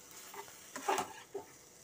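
Potatoes and soybean frying with masala in a pan, a faint sizzle with a few short scraping stirs up close.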